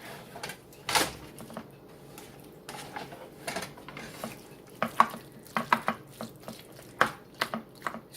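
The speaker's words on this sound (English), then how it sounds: "I stir it a little bit more to make sure all the flavors are in there" A spoon stirs and scrapes through a thick southwestern casserole mixture in a pot, giving irregular soft clanks and scuffs that cluster toward the end, with no talking.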